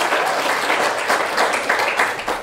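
Dense, steady applause from an audience welcoming a book's author at a launch event, a continuous wash of many hands clapping at once, close and full.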